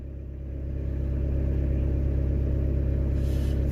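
A car engine is started and settles into a steady idle for an alternator test. A low, even rumble builds over the first second and then holds close and constant.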